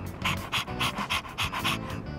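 Dog panting in Persona 3 Reload, quick rhythmic breathy pants repeating about eight times, close and clear without speech.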